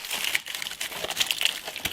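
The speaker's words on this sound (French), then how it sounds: "C'est parti, on déballe les cale-pieds." Motorcycle footpeg packaging is torn and unwrapped by hand in a workshop, giving close, busy plastic crinkling and rustling with a few sharper crackles throughout.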